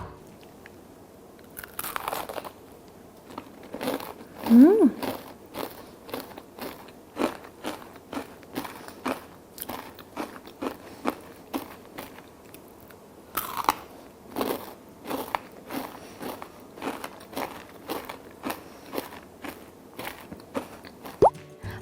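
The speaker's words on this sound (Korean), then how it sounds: "바삭바삭한 소리 들으셨죠?" Crisp, crunchy bites and chewing of homemade cherry blossom kohakuto, a crystal jelly candy crisp outside and chewy inside, close and repeated in a steady rhythm, with one short murmur of approval.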